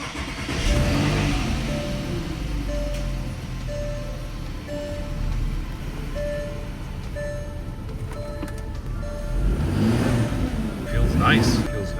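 A Porsche Cayenne base model with the VR6 engine, just fitted with new spark plugs and ignition coils, idles smoothly and evenly after starting, then revs briefly near the end while people talk close by.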